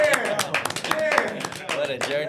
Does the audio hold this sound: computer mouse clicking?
no